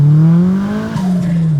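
A 470 WHP big-turbo Mazda Miata running on E85, pulling hard in second gear from low revs with a loud, close engine drone that climbs steadily, dips briefly, then keeps rising.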